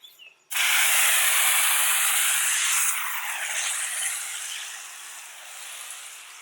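A pump foam sprayer, losing pressure while spraying a wheel, releases a sudden loud hiss of spray, starting abruptly and continuing steadily for several seconds before easing slightly toward the end.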